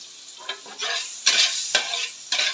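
Garlic is tossed into a frying pan with squid and stirred, giving bright, steady sizzling broken by several scraping stirs, close and fairly loud, with no talking.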